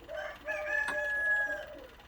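A rooster crows once, a drawn-out call rising and holding before trailing off, fairly faint and a little distant.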